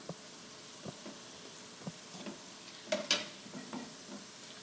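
Drop donuts frying in oil: a quiet bubbling sizzle with scattered clinks and stirring knocks, no talk.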